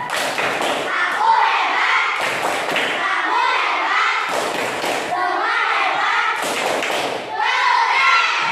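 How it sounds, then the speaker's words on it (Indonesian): A class of children performing the 'tepuk hebat' rhythmic clapping cheer, loud grouped claps in a repeating pattern mixed with chanting voices, close and energetic. "Kita tepuk hebat dulu, tepuk hebat."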